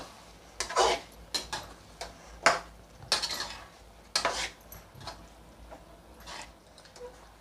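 A spoon clatters and scrapes against a pan while paneer, green peas and vegetables for paneer biryani are mixed, giving a string of sharp, close metallic knocks in an uneven rhythm, then softer stirring toward the end.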